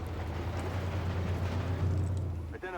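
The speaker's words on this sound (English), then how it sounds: "More artillery's coming in." Artillery shells rumbling and bursting in the tank game Armored Warfare, a steady low heavy roar, with a brief voice at the end.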